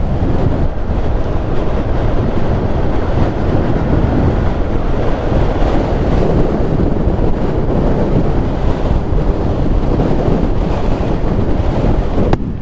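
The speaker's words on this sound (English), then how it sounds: "Very windy, eh?" Strong seaside wind roars steadily against the helmet camera during a motorcycle ride on a Royal Enfield Guerrilla 450 along the coast, a dense, unbroken buffeting rush with no talk.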